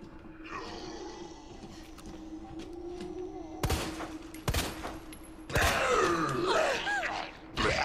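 Gunshots in Resident Evil 2, three sharp loud shots spaced about a second apart, followed by a monstrous groaning roar over a steady low ambient hum.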